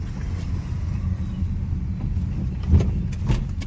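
A tractor rumbles along a road with a low, steady engine drone, joined by a few brief clanks and a slight swell as it passes nearby.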